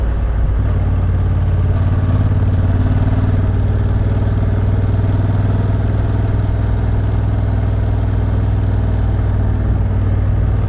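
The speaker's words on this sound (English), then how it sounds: "Glad I've got my 1100cc engine here." An 1100cc motorcycle climbing a mountain road toward Jebel Jais gives a steady, close engine drone that holds at an even, loud level throughout, with no talking.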